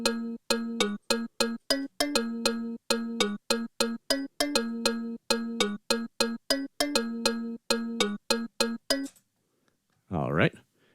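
Kalimba-like synth bass patch with phaser, delay and LFO motion plays a rhythmic run of plucked, bell-like notes for about nine seconds, loud and clear with no talk, followed by a brief swirling sweep.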